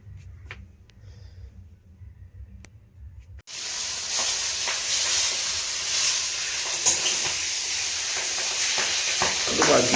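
Fish and large potatoes cooking in a pan, a quiet hum giving way abruptly to loud, steady sizzling and frying hiss with small pops and stirring scrapes.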